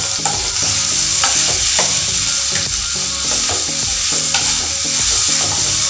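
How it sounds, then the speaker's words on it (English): Loud, close sizzling of sliced onions with salt frying in a pan for Indian fish moilli, with a busy, rhythmic scraping and clacking of stirring over a constant hiss. "I'm putting in the sliced onions now."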